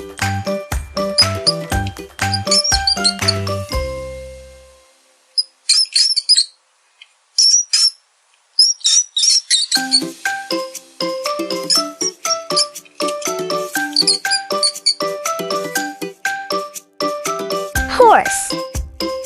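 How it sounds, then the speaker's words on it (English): High, thin squeaks come in short bursts during a quiet stretch, set between sections of bright, tinkling music-box-style melody. "Mouse."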